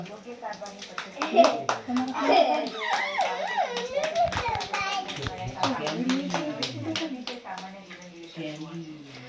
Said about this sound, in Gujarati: તાળીએ પાડો